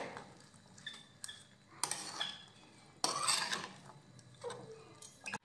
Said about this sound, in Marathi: मीठ घातल्यानंतर आता हे मिक्स करून घेऊयात।